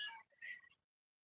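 A pet cat gives one short meow with a brief rising, two-part call. It sounds close, is fairly quiet and is followed by silence.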